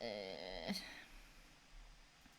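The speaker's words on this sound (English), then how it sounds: "she's meowing at me very incessantly" A black cat meows close by indoors, one short, faint, drawn-out call at the start that fades into quiet room background.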